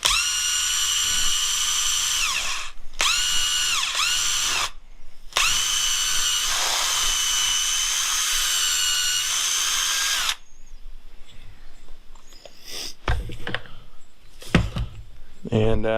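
Cordless power drill whirring at high speed, spinning a socket wrapped in steel wool to clean rust on a 2004 Honda Odyssey front brake job; several long, loud whining bursts with short pauses, followed by quieter handling noises.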